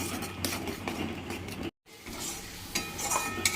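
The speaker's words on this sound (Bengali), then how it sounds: "ভালো করে মশলাটা একটু কষিয়ে নিচ্ছি" A spice paste of tomato, ginger, garlic and chilli with Kashmiri chilli, turmeric, coriander and cumin powders sautés for potol korma, giving a steady close sizzle with scraping stirs, cut by a brief silent gap midway.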